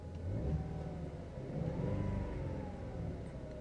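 A 1973 Ford Mustang Mach 1 engine idles steadily close by, a low rumbling hum with a slight rise in revs midway, no voices.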